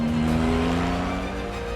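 A Porsche 911 GT1 race car roars on the track, a loud continuous engine whine with its pitch sliding slowly as it holds speed, close by and alone with no voices.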